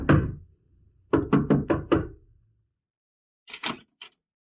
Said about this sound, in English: Eliza went to the house and knocked on the door.